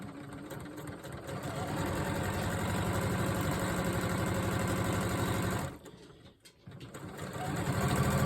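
A sewing machine runs steadily while stitching a quarter-inch seam to join quilt blocks, with a brief pause near the end before the stitching picks up again.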